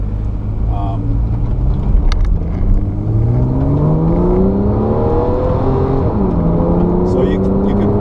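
A 2014 Porsche C4S coupe with PDK gearbox and sport exhaust revs upward close by, its pitch climbing, then drops sharply at a quick gear change and climbs again.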